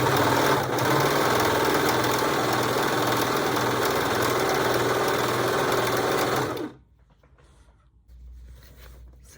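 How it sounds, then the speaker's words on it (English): An overlock machine runs steadily for about six and a half seconds, serging the edges of denim tote bag handles with a fast, even mechanical whir, then stops abruptly, leaving faint handling noises. "I will overlock the handles because this is denim and it frays a lot."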